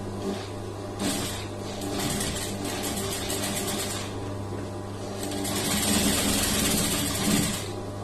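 A sewing machine stitches a lined blouse in steady, continuous runs, its motor whirring and the needle ticking rapidly, with the sound swelling louder toward the end.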